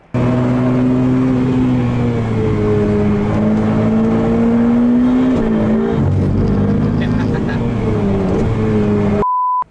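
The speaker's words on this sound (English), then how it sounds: "the car came down, hit the rumble strip, the back end popped out" A Ferrari 488 Pista race car engine roars steadily at high revs on the Nürburgring, pitch rising and dipping through gear changes, loud and close throughout.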